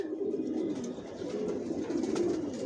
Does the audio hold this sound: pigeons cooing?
yes